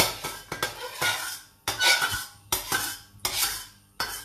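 Metal utensils clanging and scraping against a wok as oil heats, a series of sharp, irregular metallic clanks with short pauses between bursts, close and moderately loud.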